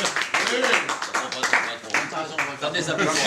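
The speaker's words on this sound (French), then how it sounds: "Je vous demande d'applaudir Ramon Chaud" An audience claps for a guest at a Ryder Cup Makila 2012 golf gathering, with bursts of applause rising and dipping while a voice talks over it.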